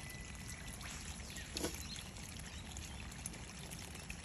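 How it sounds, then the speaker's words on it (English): Water steadily streams and pours down from a roof bypass while a roof is being washed from the ground, a continuous faint rushing wash with no voices. "it's all coming out up here"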